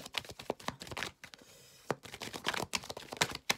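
Oracle cards are shuffled by hand in rapid, dense riffling bursts of papery clicks and flutters, close and fairly quiet, with a brief pause in the middle.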